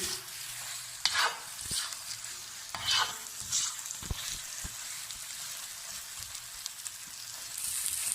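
Dal sizzles as it fries in a pan for a shahi dal, with a hiss that holds steady while a spoon scrapes and stirs close by in several distinct strokes, no voices present.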